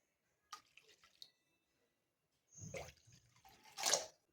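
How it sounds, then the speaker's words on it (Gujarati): Water being poured into a small pan, three bowlfuls for rice flour khichu, in short close splashing bursts separated by quiet gaps. "તાવડીની અંદર આપણે જે માપથી આપણે અહીંયા લોટ લીધો છે એ માપથી આપણે અહીંયા ત્રણ વાટકી પાણી લઈશું"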